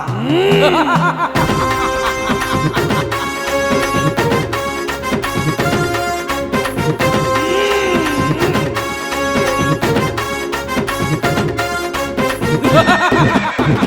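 A horse neighs in a Tamil devotional song to the deity Karuppasamy. Loud whinnies with a falling pitch come at the start and again midway, set into the full music with its drums and melody.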